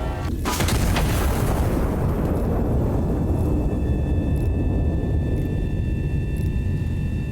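An HE artillery shell in the game Iron Nest fires with a sudden heavy boom. A loud, sustained low rumble follows and carries on for several seconds.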